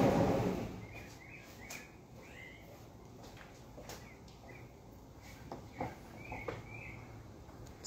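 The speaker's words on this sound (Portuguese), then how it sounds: "Estão ouvindo os passarinhos?" Faint bird chirps and short tweets repeat in the distance over a quiet room, with a soft knock at the start.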